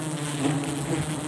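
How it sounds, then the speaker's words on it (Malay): Honey bees buzz close and steady during a wild honey harvest in Aceh Besar, a brief continuous droning hum with slight swells. "Ya madu lebah."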